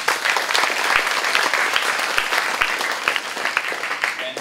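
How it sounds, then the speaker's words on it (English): A meetup audience breaks into dense, sustained applause for the sponsors and helpers, many hands clapping at once in a room, loud and even without pause. "So let's give them a round of applause."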